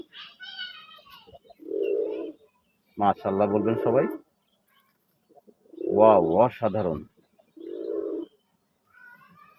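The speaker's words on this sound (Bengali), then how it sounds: "দেখেন কবুতরের ডাকের সাউন্ডটা কি অসম্ভব দেখেন" Deep, resonant coos of a sky-blue desi golla pigeon come in short bursts, alternating with someone talking excitedly close by.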